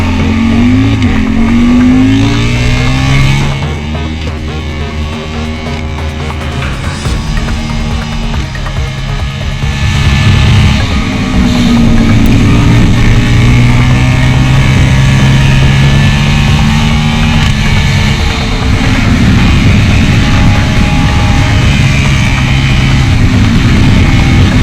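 A race car tears along a mountain public road in a national park, engine roaring loud and close with constant high revs and shifting pitch sweeps over about twenty-five seconds as it blasts through the bends.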